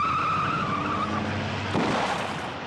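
A car lurches backward with tires skidding and squealing on the road, a loud rising screech over engine noise that fades out after a sharp burst, with no voices.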